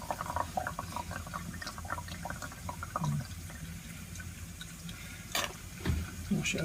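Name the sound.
washing benzoic acid out of a beaker with water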